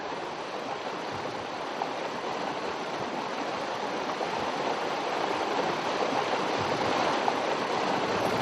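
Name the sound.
creek water flowing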